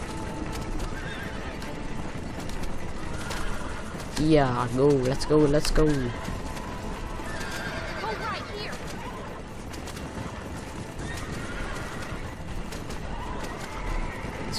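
A horse in the video game Red Dead Redemption whinnies loudly with a wavering neigh while hooves clip-clop steadily; a person talks excitedly over the sounds.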